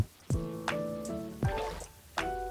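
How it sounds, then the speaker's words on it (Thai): A bucket scoops water in the Minecraft video game, giving three distinct watery splash-and-fill sounds at even intervals, each ringing briefly, with no talk. "เดี๋ยวไปตักน้ำมาเพิ่มอีกสองถังนะครับผม"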